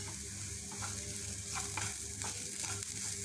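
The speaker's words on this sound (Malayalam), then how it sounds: "നമുക്ക് ഈ ക്യാപ്സിക്കം ഒന്ന് വഴന്ന് വരുന്ന വരെ വെയിറ്റ് ചെയ്യാം" Capsicum sautés in a hot pan for a pizza topping, giving a steady, close sizzle with soft scraping strokes of stirring and no voices.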